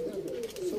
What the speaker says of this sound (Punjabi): ਕਿਸੇ ਦਾ ਹੁਣ ਕਬੂਤਰ ਆ ਕੇ ਬੈਠਾ